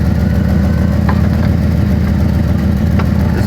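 A one-owner Ford Thunderbird with about 31,500 original miles idles steadily and loudly close by, a low throbbing rumble with no talk over it.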